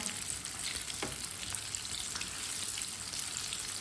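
Pakoras cooking in oil while being turned, a soft, steady sizzle at low level throughout, no voices.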